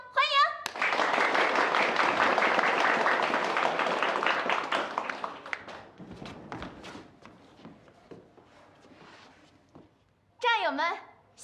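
An audience breaks into dense applause to welcome a new act at a wartime open-air show for soldiers and villagers. The clapping holds loud for several seconds, then thins and fades, and a voice briefly follows.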